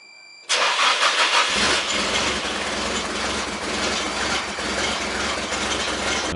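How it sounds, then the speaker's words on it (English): A petrol car fuelled with fresh 98-octane starts up and settles into a rough, uneven idle, a loud steady engine roar with a low lumpy rumble underneath and no voices. "but the car still ran rough."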